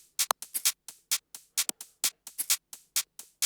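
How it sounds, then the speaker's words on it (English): Shaker loop from an electronic track playing alone, a quick rhythmic pattern of bright, crisp rattling hits repeating evenly at close range. "two shaker loops. The first one sounds like this."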